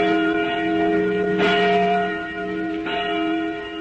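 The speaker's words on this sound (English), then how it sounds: "We made this record of a church bell ringing in Boston just a few days back" A church bell in Boston, cast in 1816, tolling with a sustained, ringing hum and two distinct strikes about a second and a half apart.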